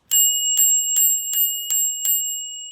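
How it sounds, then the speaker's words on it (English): The handlebar bell on a Euphree Robin X+ e-bike rings six bright, evenly spaced dings, close and loud, each note ringing on briefly before the next. "And then there's the bell."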